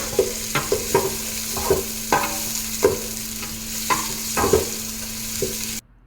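A spoon stirring spices frying in a cooking pot, rhythmic scrapes and clacks about every half second over a steady sizzle, close and clear, ending abruptly.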